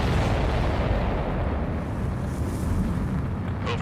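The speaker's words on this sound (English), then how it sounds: "Did you see that explosion?" A broad, rumbling explosion from the aerial combat game Ace Combat 7 Skies Unknown, a sustained deep roar at moderate level that fills the clip without any voices.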